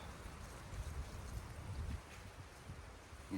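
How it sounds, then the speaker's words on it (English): Wind in the woods at a bushcraft camp, a low steady rumble and buffeting gusts with no voices. "Just the wind."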